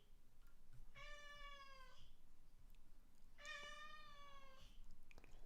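A cat gives two clear, drawn-out meows about two seconds apart. They are fairly faint but distinct against a quiet room, with no talking.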